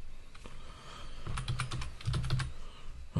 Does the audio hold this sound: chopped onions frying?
no